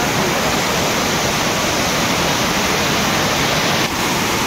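A waterfall roars steadily and loudly nearby, a dense, unbroken rush of falling water that fills the whole stretch with no voices.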